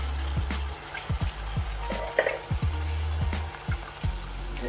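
Fried chicken pieces dropped into a pan of meat masala for Chicken Bihari, a steady close sizzle with repeated clicks and knocks as pieces land and shift, no talking.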